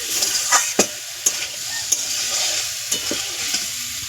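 Gourd curry sautéing in a pan, with steady sizzling and frying under a series of sharp spatula scrapes and stirring knocks, close and clear, no voices.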